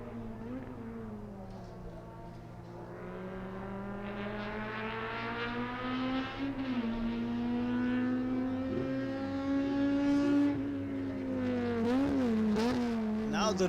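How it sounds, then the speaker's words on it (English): Race cars circle a JK Tyre racing circuit, a rising and falling engine drone that swells as a leader laps a slower car, heard at moderate distance under faint background noise. "Now the race leader is about to lap Siddharth Kishore"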